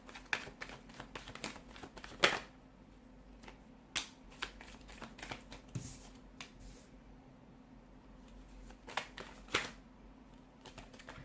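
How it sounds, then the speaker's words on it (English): Tarot cards are shuffled by hand at a reading: quiet, scattered clicks and soft riffling bursts, with a few sharper taps, close by and with no talking. "give the cards a shuffle"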